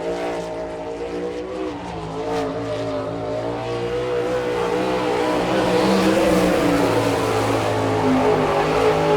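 Sprint race cars on a dirt oval track at a speedway event in Chillicothe, Ohio, with a sustained loud engine drone that swells and builds as the cars lap, no talking.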